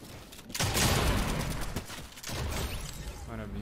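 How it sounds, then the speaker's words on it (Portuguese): Bursts of rapid gunfire in Fortnite crackle and rattle in two long volleys, dense and fairly loud, with a brief lull between them. "O problema é que tem um cara atirando de longe."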